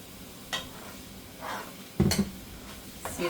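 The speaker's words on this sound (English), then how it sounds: "See, it's already starting to come to a little sizzle here." Rice being stirred in rendered pork fat in a pan, with soft, scattered sizzling bursts and scraping stirs at irregular intervals, fairly quiet and close, no talking.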